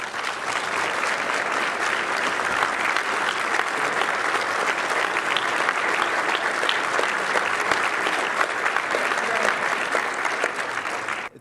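Sustained applause from a law school audience welcoming keynote speaker Paul Begala, a loud, even wash of many clapping hands that runs steadily for about eleven seconds before stopping abruptly.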